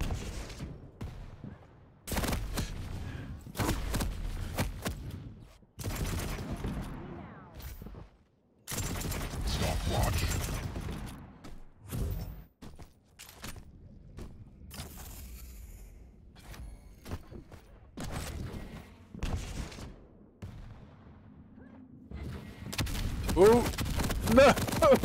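Quake Champions arena combat with repeated shotgun blasts and rocket launches and explosions in sharp bursts separated by short gaps, loud and close, with voices talking over parts of it.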